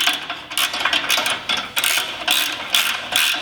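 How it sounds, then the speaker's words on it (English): A ratchet wrench clicks steadily while tightening a serrated nut during a Toyota Tacoma rock slider install, giving rapid close metallic pawl clicks in short repeated strokes, loud and alone. "And since that nut is serrated, you should be able to tighten this down"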